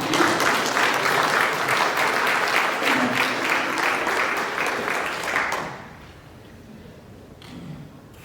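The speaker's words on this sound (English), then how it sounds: "Y'all can clap for her." A university audience at a campus speaking event applauds a speaker with dense, sustained clapping that holds steady for several seconds, then drops away abruptly, leaving a few faint stray claps in a quieter room.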